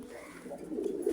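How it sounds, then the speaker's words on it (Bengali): Pet pigeons cooing softly, a pair kept in a loft, giving a few low, throaty coos near the end of a short, quiet moment with no talk. "এই জায়গায় আমার আরেক জোড়া পাখি কবুতর রয়েছে"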